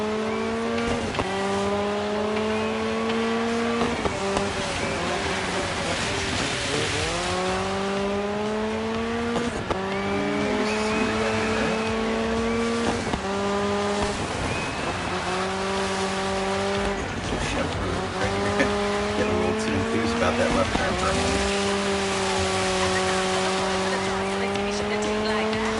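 Sprint cars race in the video game Dirt 5, their engines revving and rising in pitch through repeated shifts with tire squeal and skidding, loud and continuous under occasional talk.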